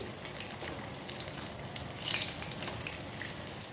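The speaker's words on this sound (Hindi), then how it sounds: "इनको हमें बिल्कुल मीडियम फ्लेम पर ही फ्राई करना है" Paneer pieces fry in a pan over a medium flame, giving a soft, continuous bubbling hiss with small crackles and one slightly louder swell, faint and with no voices.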